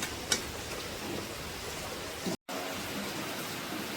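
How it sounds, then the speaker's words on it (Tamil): Steady rain falls outside a village home on a cold morning, a dense even patter of drops with a short dropout near the middle. "ஃபுல்லாக மழை பெஞ்சு இப்போ காலமே பெய்து கொண்டே இருக்குது மழை"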